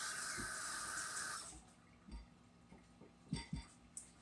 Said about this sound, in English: Let's not forget our hands a quick wash.